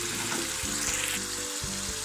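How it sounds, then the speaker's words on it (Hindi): A tomato and onion sauce sizzling in chicken karahi: a continuous, close hiss of frying with faint stirring scrapes throughout. "ये जो हमने टमाटर और प्याज का ये सॉस बनाया था, ये अब हम इसमें इस तरह से ऐड कर देंगे"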